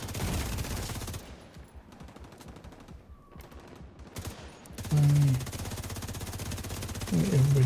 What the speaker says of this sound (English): Everybody shooting at me.